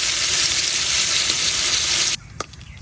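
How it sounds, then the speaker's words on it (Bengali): Grass carp fish frying in its own released oil in a hot wok gives a loud, dense, steady sizzle for about two seconds. The sizzle then cuts off abruptly, leaving near silence with a faint clink. "মাছের তেলেই আজকে মাছ ভাজা করা।"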